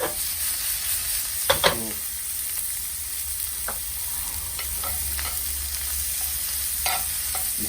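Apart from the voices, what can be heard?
garlic and shallot frying in pan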